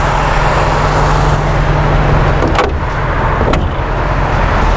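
1985 Mercedes-Benz R107 500SL with a V8 engine idling, a loud steady low hum and rumble heard up close, with a couple of brief clicks or knocks standing out partway through.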